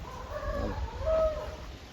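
Fighting-breed chickens cluck and call in a short burst of fowl vocalizations, with rising and falling calls stacked over a low rumbling background, fairly close and moderately loud.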